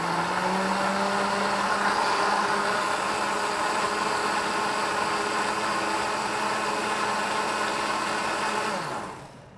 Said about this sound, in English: I'm not using a super fancy blender. It'll work with any blender.